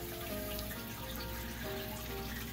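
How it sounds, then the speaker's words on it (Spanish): Water splashes steadily from cascade filters into an aquarium, a continuous close trickling and splattering wash with no break. "el agua está cayendo desde arriba, de los filtros"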